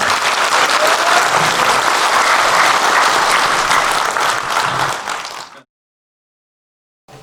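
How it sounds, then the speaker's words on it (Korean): Dense, loud applause from an audience at a National Assembly debate forum on a special compensation act for Vietnam War veterans, honoring presenters and panelists; the clapping stops abruptly after about five seconds, leaving near silence. "수고하신 발표자 및 토론자께 수고의 박수를 부탁드립니다."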